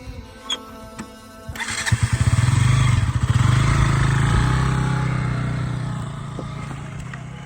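A motorcycle engine cranks and catches after a few quiet knocks, then settles into a loud, steady idle that lasts to the end with a slight fade.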